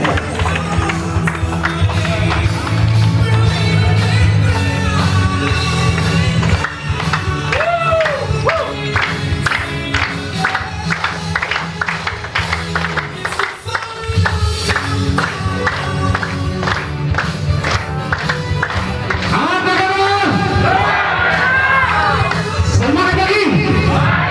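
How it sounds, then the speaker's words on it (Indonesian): An audience at an Indonesian motivational seminar applauding and cheering, a loud sustained mix of clapping, whoops and shouts running throughout over music. "Berikan tepuk tangan luar biasa."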